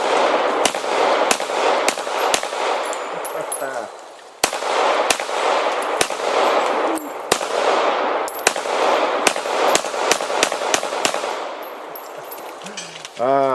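A CZ 75 Compact 9mm pistol fires at a pumpkin target outdoors, sending out loud, sharp shots in quick irregular strings of a dozen or more, each with a ringing tail.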